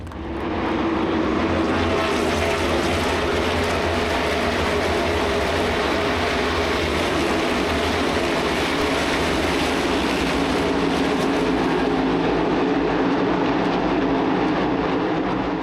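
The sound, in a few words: NASCAR stock car engines starting at Charlotte Motor Speedway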